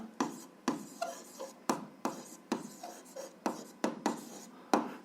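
A pen scratches across paper in short, rhythmic strokes while an algebra answer is written out, about a dozen close, quiet bursts of scribbling with brief pauses between.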